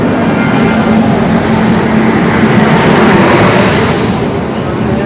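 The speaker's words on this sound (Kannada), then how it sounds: "ಟ್ರೈನ್ ಬಂತು." A train rolls into a station with a loud, continuous rumble and rushing wheel noise right alongside, holding steady before easing slightly at the end.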